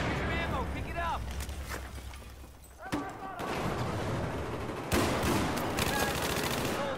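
Bursts of automatic and single gunfire ring out in a cooperative shooter video game, loud cracks clustered in rapid volleys at intervals while players talk over the fighting.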